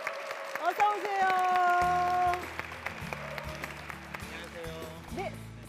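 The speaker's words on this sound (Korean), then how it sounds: "박수 부탁드리겠습니다." Audience at a church testimony event claps to welcome a speaker, a broad swell of applause under bright sustained music, with a voice calling out near the start.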